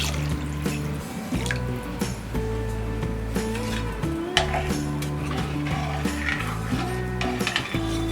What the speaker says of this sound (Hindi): हमने दाल और चावल 2 कप लिया है तो हम 4 कप पानी डालेंगे।